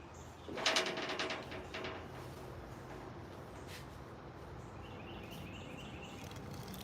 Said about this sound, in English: There are birds beefing with a squirrel on the tree in front of me.